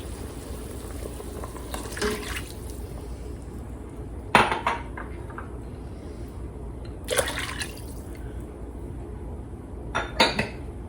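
A spoon stirs carbonara sauce with hot water and chicken broth in a pressure cooker pot, a steady simmering hiss broken by four sharp metallic scrapes and clinks against the pot.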